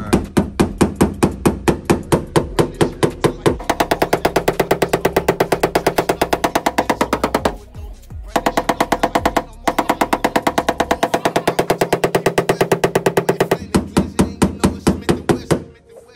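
Rapid, steady metallic blows from a flat-edged hammer repeat in a fast rhythm on a sixth- or seventh-generation Chevrolet Monte Carlo SS body panel, close and loud, with a few brief pauses between runs of strikes.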